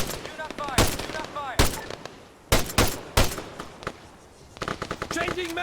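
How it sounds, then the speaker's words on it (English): Machine gun fire in the military shooter game Arma 3, several sharp loud bursts spaced a second or so apart, with shouted voices between and over the shots. "Machine gun! 200 meters!"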